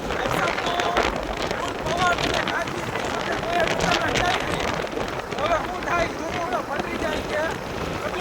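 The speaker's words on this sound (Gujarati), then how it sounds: "વરસાદ આવે ફૂલ પવન ફૂલ આવે" A heavy downpour is driven by strong wind, with a continuous roaring wash and rough gusts battering the microphone.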